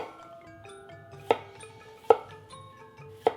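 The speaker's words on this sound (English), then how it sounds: "Some Persian cucumbers cut at a bias." Persian cucumbers are sliced at a bias with a knife on a cutting board, giving three crisp, clear chops roughly a second apart over a quiet background with faint music.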